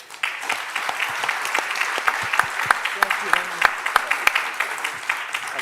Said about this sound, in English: please let's thank them with a nice round of applause.